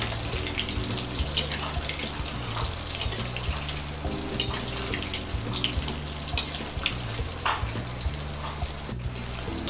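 Chicken kola balls deep fry in hot oil, giving a continuous close sizzle with crackling and bubbling at an even level throughout.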